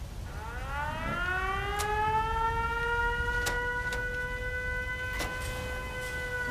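A civil defense siren in a video game settlement winds up and rises into a long sustained wail, with a few brief sharp clicks over a low background hum.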